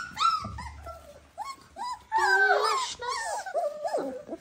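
Young Dalmatian puppies whimper and yip close by in a string of high, wavering cries, some overlapping, with a low growl near the start and short pauses between bursts.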